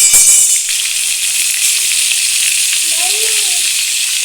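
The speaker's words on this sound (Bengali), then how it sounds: "ফোড়নটা আমার ভাজা হয়ে গেছে, এর মধ্যে কেটে রাখা পেঁয়াজটা দিয়ে দেবো।" Chopped onion goes into hot oil with tempering spices, giving a loud, steady sizzle that swells briefly at the start, with faint clinks of the utensil later on.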